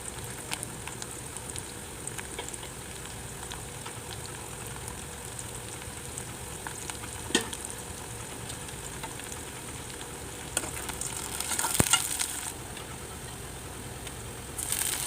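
Green chillies and curry leaves frying in hot oil with onion in a pan, a steady soft sizzle running throughout with a few brief louder crackles and spits near the end.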